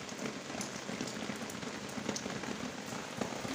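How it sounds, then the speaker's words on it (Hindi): Heavy rain pours steadily onto a surface, a dense continuous hiss with scattered louder drops and no voices. "आज बहुत ज़्यादा बारिश हो रही है"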